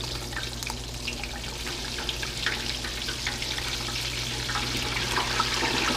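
A blooming onion deep-fries in hot oil, giving a steady, moderately loud crackling sizzle with scattered pops throughout, heard alone without talking.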